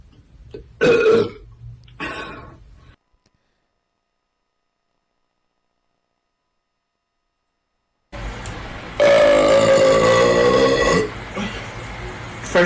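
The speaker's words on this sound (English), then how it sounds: "First burp of the video." Two long, loud, voiced burps from a woman, each about two seconds with strong tonal harmonics, separated by a pair of shorter vocal bursts early on and a long stretch of silence.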